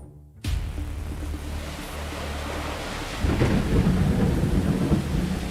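Steady rain and rolling thunder in the Girls Frontline video game, a dense continuous downpour that begins abruptly and swells louder near the end with a deep rumble, with no voices over it.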